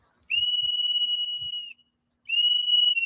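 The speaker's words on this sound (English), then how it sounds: "Why are you blowing your whistle, sir?" A protester's whistle blasts twice at a street protest: a long shrill piercing tone of over a second, a pause, then a second blast, loud and close with a few soft bumps between.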